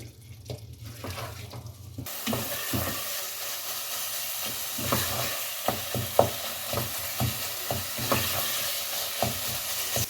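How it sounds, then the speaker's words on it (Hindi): Turnip curry stirred and lightly mashed in a pan, with a steady close sizzle and repeated scraping, knocking strokes of a spoon against the pan; a brief quieter stretch before the cooking noise takes over. "इसको मिक्स करें और इसको हल्का सा मैश कर लें"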